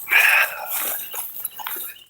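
A puppy lets out a sharp, high yelp, then a few fainter whimpers trail off, close to the microphone.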